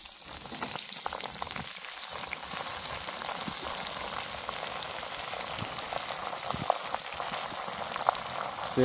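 Dasvanti flowers dropped into very hot oil for a homemade hair oil, giving a steady, dense bubbling sizzle that holds throughout with faint clicks near the end.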